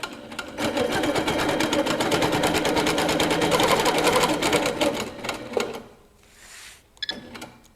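A Handi Quilter Capri stationary longarm quilting machine runs in a fast, steady mechanical rattle for about five seconds, then stops, followed by a few faint clicks and a soft hiss, close and alone.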